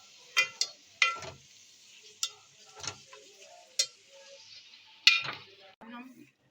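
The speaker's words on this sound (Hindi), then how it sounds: "इसमें 4 चम्मच भर के लहसुन अदरक का पेस्ट शामिल करेंगे और इसको अच्छी तरह भूनेंगे 1 मिनट" Meat fries with garlic ginger paste in a pot, giving a steady close sizzle. A spoon scrapes and clinks against the metal at irregular intervals as the mixture is stirred.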